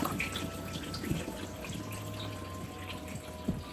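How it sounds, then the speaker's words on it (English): Water poured from a watering can onto potted houseplants indoors, a steady close trickle and splash running continuously with a few brief drips and bumps. "I just poured some more water on my mandula"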